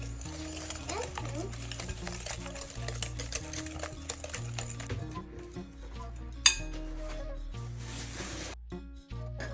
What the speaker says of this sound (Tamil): அதெல்லாம் சேர்த்து நல்லா மிக்ஸ் பண்ணணும்.